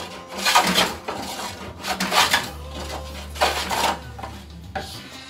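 Steel hand plane shaving wood on a Greenland paddle over an unstable planing surface, several rasping strokes in an uneven rhythm, close and fairly loud, with a low hum underneath.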